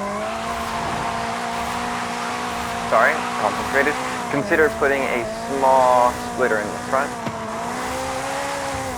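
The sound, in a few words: race car understeering and tire squeal in video game Forza Horizon 5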